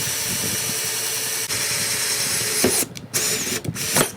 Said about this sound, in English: we're gonna go ahead and drill the holes in these parts